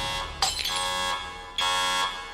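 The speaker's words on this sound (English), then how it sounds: "Alarm!" A blaring alarm sounds in The Expanse Telltale game, its harmonic tone coming in two long, loud pulses with a brief gap between them, close and with no voices over it.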